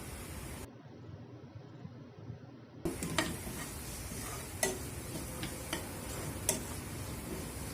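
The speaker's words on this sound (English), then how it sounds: "Let them to saute onion. Then add green chilies." Onion and green chilies sauteing in a pan, a soft, quiet sizzle with intermittent ticks and scrapes of a spatula in the latter half.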